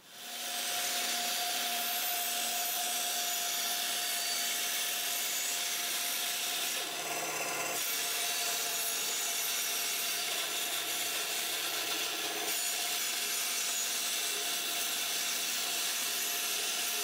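A bandsaw rips a couple of narrow strips from a wooden board in a workshop, giving a steady loud whir and rasp of the blade through wood, with a brief change in tone midway.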